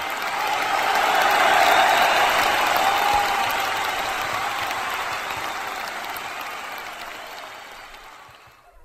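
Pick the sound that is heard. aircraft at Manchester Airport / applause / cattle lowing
applause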